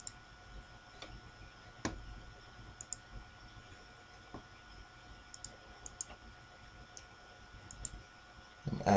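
Quiet, sparse computer mouse clicks while entering notes in music-writing software, single sharp ticks spaced irregularly over a faint steady room hum.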